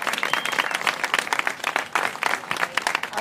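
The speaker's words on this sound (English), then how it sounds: "I just definitely want to give a round of applause for Priscilla one more time" Audience applause after a keynote at a Green Ambassadors Institute event, a dense steady patter of many hands clapping close by for about three seconds, with a cheer mixed in.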